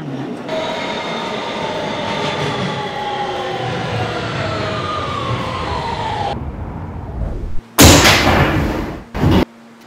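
Kawasaki R160B subway train in a Roblox game, running a Manhattan-bound Q local, cruises with layered motor whine and steady rumble, then cuts to quieter rolling noise before two sharp loud bursts near the end.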